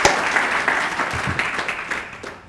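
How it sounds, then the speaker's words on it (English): Audience applause at a workforce development internship program announcement for high school juniors and seniors, a steady broadband wash of clapping held at moderate level for a couple of seconds, then thinning toward the end. "Let's give them another round of applause."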